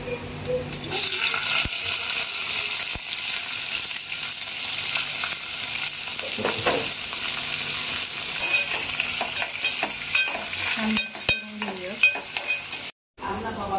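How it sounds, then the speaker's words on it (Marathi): Cinnamon, bay leaf, black and green cardamom, pepper and onion fry in a pan, a loud continuous sizzle with stirring scrapes and clinks, briefly cutting off near the end. "दालचिनी घातले, तमालपत्र, मोठी वेलची, ह्या मिरी आणि छोटी वेलची घालते आणि इथे कांदा घालते"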